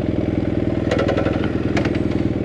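A motorcycle engine drones close and steady while riding across hot, endless steppe, with a couple of brief rattling clatters breaking over the even throb.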